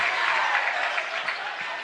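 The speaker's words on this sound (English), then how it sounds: "getting a little clapping going" A crowd claps steadily at a high school boys basketball game between Bishop Noll and Andrean, a dense, even patter of many hands filling the gym.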